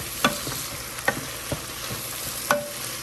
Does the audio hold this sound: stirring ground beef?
yes